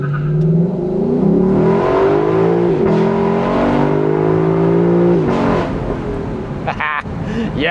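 A 2025 Lexus LC 500 convertible accelerates hard from 0 to 60, its engine revving up through rising pitch sweeps and gear changes, loud and close from inside the car.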